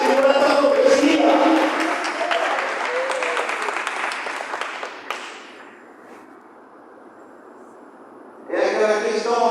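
A congregation at a Catholic charismatic renewal prayer group bursts into loud, dense applause that gradually thins and fades, followed by a voice speaking at the end.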